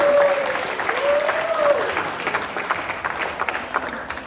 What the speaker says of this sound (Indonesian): mungkin kita bisa tepuk tangan sekali lagi untuk pementasan pada hari ini